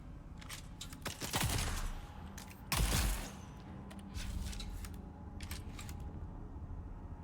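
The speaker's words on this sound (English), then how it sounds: "Let's try out the shotgun." Shotgun blasts in the video game Dune: Awakening, two heavy booming shots a little over a second apart amid softer clicks and ambient game noise, fairly close.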